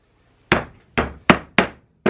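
Hammer blows driving 2-inch box nails into wood, five sharp knocks at an uneven pace with short decays between them, close and loud with no other sound.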